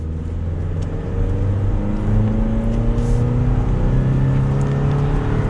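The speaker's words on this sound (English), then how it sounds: "We'll give it another quick acceleration here," A 2022 Toyota Tacoma Access Cab SR with a four-cylinder engine accelerates, its engine tone rising steadily in pitch over a constant loud road and cabin drone, with no talking.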